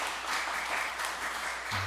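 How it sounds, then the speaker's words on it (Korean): A church congregation applauding after a hymn, a short burst of dense, steady clapping from many people. "박수로서 하나님께 영광 돌리시겠습니다"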